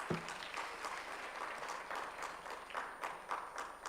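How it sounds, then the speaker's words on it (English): A summit audience in a convention hall applauds a speaker with a moderate, fairly distant round of clapping that holds steady for several seconds without voices. "Please, let's clap for him a little louder"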